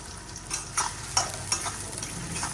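Garlic and onion frying for tempering in a home kitchen, a steady low sizzle broken by several clattering stirs at irregular intervals, close by and fairly quiet, with no voices.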